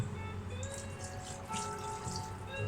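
Water running steadily from a kitchen tap, being poured for homemade onion gravy to go with sausage and mash; a continuous close splashing flow with a faint tonal ring, no talking.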